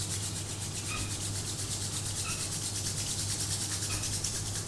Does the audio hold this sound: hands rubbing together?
yes